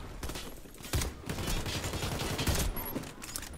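Rapid gunfire in the online shooter Warface crackles in a dense, continuous volley of overlapping shots at moderate loudness.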